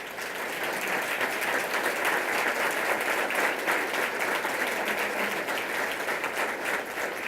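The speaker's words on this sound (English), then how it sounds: "So I see Mike and Patty are arguing about who the applause was for," A dinner crowd at a public health centennial celebration gala applauds steadily and loudly for the whole stretch, with a thick wash of clapping and no break.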